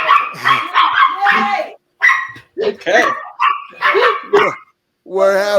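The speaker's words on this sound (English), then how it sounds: "we're having a dog catastrophe here" A dog barks and yips repeatedly at close range in short excited bursts, with a person speaking in between.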